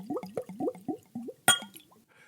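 A voice mimics wine glugging from a bottle in a quick run of about six rhythmic, pitch-bending gulps, then a sharp cork-like pop and a few trailing gurgles. The sounds are close and fairly loud.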